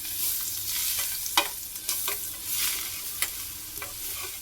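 Cumin seeds and ground spice paste sizzle loudly in a hot pan, a constant bright hiss broken by several sharp scrapes and stirring knocks from a spatula.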